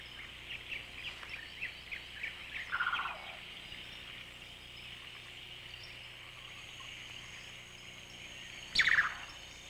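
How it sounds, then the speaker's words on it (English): A Ruwenzori turaco calls from the trees of the African Rift Valley, giving a run of rhythmic gobbling notes followed by a later loud, harsh burst over a steady background hum. "The Ruwenzori turaco is as dependent on the trees for food and housing as the monkeys"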